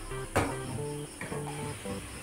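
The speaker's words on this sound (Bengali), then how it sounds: "ভালো করে উল্টে পাল্টে ভাজে নেব।" Chhana kalojam sweets fry in hot oil with a soft, steady sizzle and faint crackling throughout, broken by one brief clattering knock early on, with no voices.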